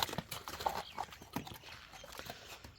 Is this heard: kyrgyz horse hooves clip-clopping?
yes